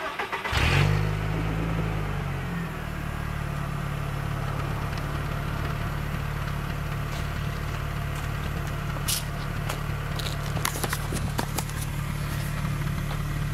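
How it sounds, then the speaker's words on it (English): A Volkswagen Golf Mark 4 starts with a brief rev, then settles into a steady, smooth engine hum from inside the car on a test drive, with occasional light clicks and knocks and no talking. "Now that sounds like a civilized car."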